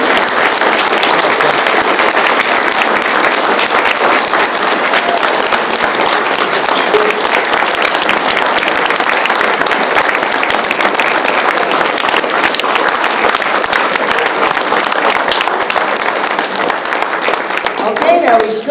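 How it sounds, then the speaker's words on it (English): A large audience at the Hamvention 2018 youth forum applauds the kids with loud, dense, sustained clapping that fills the whole stretch, voices mixed in with the crowd noise. "let's have a big round of applause for these great kids"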